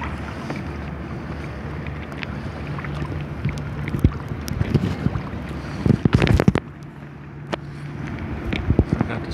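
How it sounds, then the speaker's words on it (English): A Pier 5 water taxi passes in Baltimore's Inner Harbor, a low engine drone and water wash heard from a small Hobie boat, with gusty wind buffeting the microphone and a few knocks and splashes close by. "Pier 5 water taxi."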